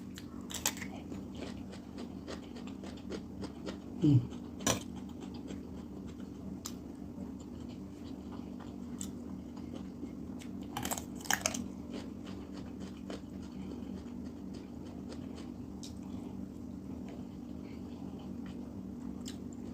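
Quiet close-up crunching of fresh cucumber eaten with rice and beans, with a few distinct crisp bites and soft chewing over a low steady room hum, no talking.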